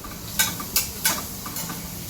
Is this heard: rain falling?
no